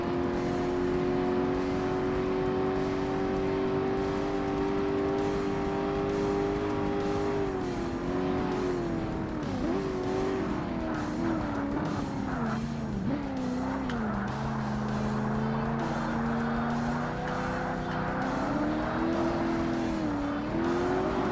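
A 1967 sports car of over 400 horsepower roars steadily in Forza Motorsport, its engine note holding high and loud, then dipping and wavering through gear changes as tires squeal under hard cornering.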